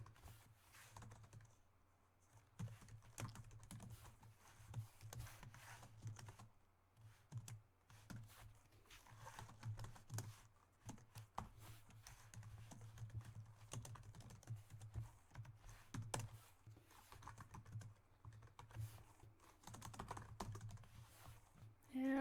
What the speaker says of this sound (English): Am I typing so fast that like I accidentally typed the wrong keys?